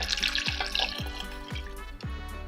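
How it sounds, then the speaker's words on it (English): Water pours steadily into a pot of simmering blueberries that have released their juices, a soft splashing hiss heard under a rhythmic backing music track. "Now I'm going to add some water, 2 cups of water"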